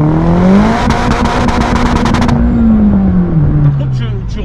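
A Mazda MPS tuned to over 500 hp revs hard into the rev limiter, a loud close engine howl with a pitch that climbs, holds and stutters. A rattling limiter buzz cuts in and out while people talk over it.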